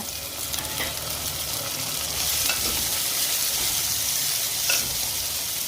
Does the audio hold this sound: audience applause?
no